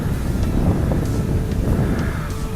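Wind gusting over a microphone outdoors in a field of long grass, a steady low rumble with buffeting throughout, alone at moderate level.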